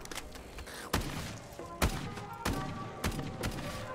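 AA-12 automatic shotgun firing in Black Ops 3 custom zombies, a handful of heavy booming shots spaced unevenly over a busy game background of mechanical whines and tones, no voices.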